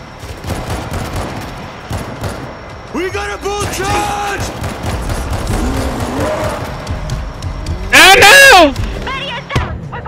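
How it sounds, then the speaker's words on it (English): A heavy in-game explosion bursts out loudly in the zombie shooter World War Z, set among steady gunfire and game noise while players shout and talk throughout. "Oh, nice explosion. Right behind you."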